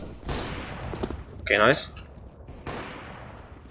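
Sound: Desert Eagle pistol gunfire in video game Counter-Strike: Global Offensive

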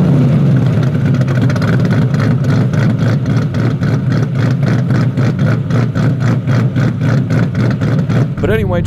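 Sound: modified Ford Mustang engine with aftermarket camshafts

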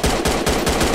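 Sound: gunfire in a video game

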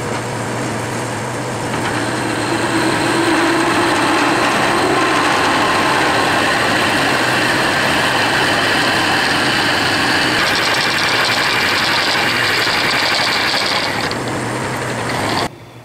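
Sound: metal lathe drilling with a large drill bit

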